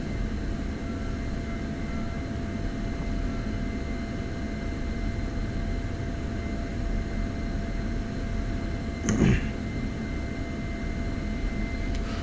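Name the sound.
F-16 jet taxiing to the runway in video game DCS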